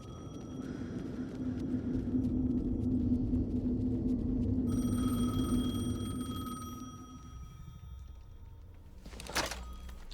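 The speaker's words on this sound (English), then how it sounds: "The phone again." A telephone rings in the video game Alan Wake 2, a steady electronic trill sounding for a few seconds over a low, droning ambient rumble, then fading into quiet.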